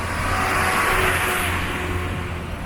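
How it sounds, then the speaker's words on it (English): Road traffic beside a street in Kampala, Uganda: a loud, continuous roadside roar of passing cars and engines, close and steady with no break. "I'm walking on the side of the road, man. Very noisy."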